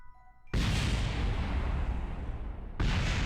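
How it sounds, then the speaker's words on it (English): A craft blowing up in Kerbal Space Program: after a faint tonal moment, a sudden loud, roaring blast breaks out and rumbles on, then surges again in a second burst near the end, with no voices. "It's going to go boom."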